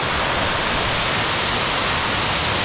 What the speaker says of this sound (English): But look how amazing that waterfall is.